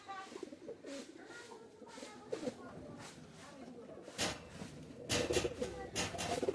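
A hen pigeon of the Dena hybrid breed coos in low repeated murmurs, with loud handling clatter and bursts of noise in the second half; a person talks over parts of it.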